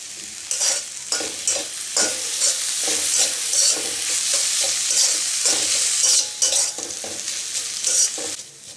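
Aloo paratha filling of potato and chopped coriander leaves being mixed by hand or spoon, a steady close scraping and stirring texture with soft rhythmic strokes throughout, no voices.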